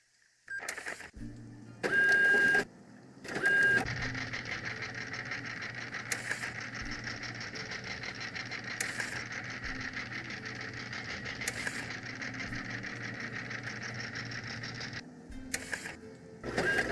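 A plotter in the Nancy Drew Danger by Design video game whirs with a steady mechanical drone and a faint high whine, broken by short louder clicks and clacks at the start and a few more along the way.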